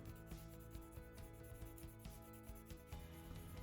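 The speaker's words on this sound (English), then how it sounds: "I usually don't put a lot of pressure on the file and go in an X pattern." A metal file rasps across a 1969 1/2 Super Bee diecast car body in a light-pressure X pattern, quick rhythmic scraping strokes, close and steady with no talk.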